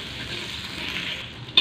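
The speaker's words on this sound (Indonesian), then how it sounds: "Tuh, Mama goreng bawang dulu." Onions fry in a little oil in a pan as a steady, close sizzle, with a brief sharp clatter at the very end.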